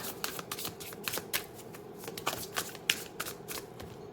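Tarot cards shuffled by hand, a rapid run of close, crisp riffling flicks repeating steadily throughout, with no talking.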